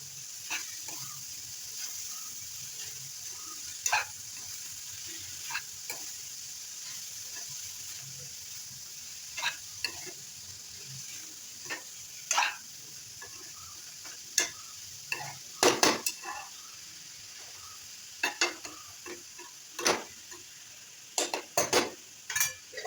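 Food cooking in a pan is stirred with a utensil, producing faint background sizzle and intermittent clinks and scrapes of metal on the pot, sparse at first and growing busier toward the end.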